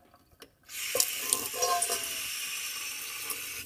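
Water gushes steadily into a sink, a loud continuous splashing rush that starts abruptly after a brief quiet moment with a few small clicks, then runs on unbroken.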